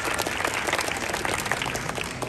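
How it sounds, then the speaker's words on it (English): A street show crowd watching a juggling act gives a big round of applause, loud, dense clapping close by that runs unbroken throughout. "Can we give Bisu a massive round of applause?"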